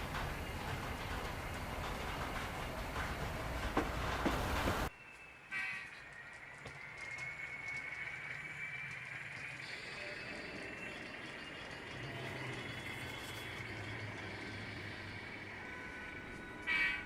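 Train cars move through a railroad yard on the Penn-Reading Industrial Division, a steady rolling rumble that changes abruptly partway through and then carries on with faint squeals and clatter.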